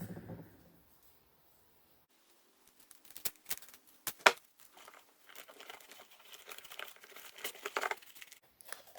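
Tape is pulled and pressed down on a hydroponics setup, quiet crinkling and tearing rustles with a few sharp snaps, after a brief murmur and a stretch of near silence.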